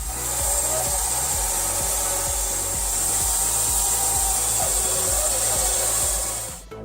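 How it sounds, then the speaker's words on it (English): A homemade sawmill cuts through a large log, a loud steady rhythmic rasping of back-and-forth sawing strokes over a constant high machine whine, close by, stopping at the end. "The device easily saws quite large logs, so the tests can be called a success."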